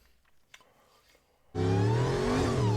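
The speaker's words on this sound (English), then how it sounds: "This Brabus car." A Brabus 6x6 engine suddenly roars into a loud, sustained rev after a quiet stretch, the pitch climbing steadily, close and dominant.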